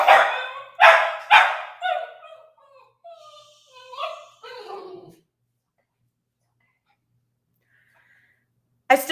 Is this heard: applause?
no